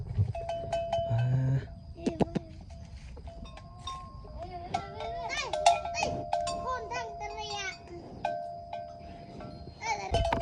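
Water buffalo herded in a rural Thai setting, with cowbells clanking and knocking irregularly close by, a few lowing calls and other animal and ambient sounds around them.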